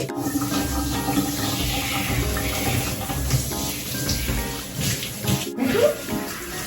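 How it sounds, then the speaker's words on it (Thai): Warm water is poured over a person during a bath, making a continuous rushing splash that stays loud and close throughout, with a brief break and a few gurgling trickles toward the end. "เอาน้ำอุ่นไว้ตรงอกก็จะได้สบาย"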